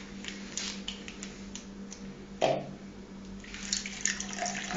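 Milk pours into a measuring cup in a soft continuous trickle up close, with a brief splash midway and light clatter toward the end.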